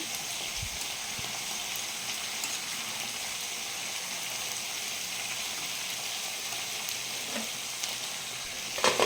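Cabbage with fish head cooks in a wok, giving a steady, loud hissing sizzle throughout, with a few faint scrapes of stirring near the start and end.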